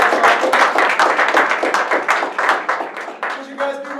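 A small group of people clap together, brisk and uneven, close by and fairly loud, with bits of voice near the end as the clapping thins out.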